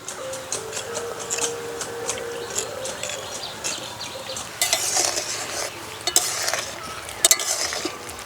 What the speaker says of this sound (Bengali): এবার ভালো করে গুলে নেব।